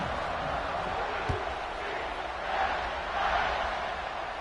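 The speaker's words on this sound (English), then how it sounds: "this crowd is buzzing after that last score" A packed stadium crowd in the College Football 26 video game roars steadily after a score on a wet field, a dense continuous wash of cheering that swells slightly midway.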